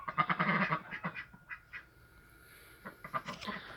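Ducks quack in short, close bursts, a busy cluster at first, then scattered calls after a pause, with faint farmyard background.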